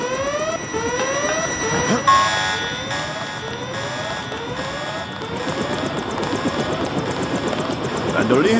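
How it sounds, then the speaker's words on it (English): A video game helicopter arriving, its rotor chop and engine whine steady and fairly loud, with game sound effects and tones layered over it. "A chopper is arriving with Agent Herman on board."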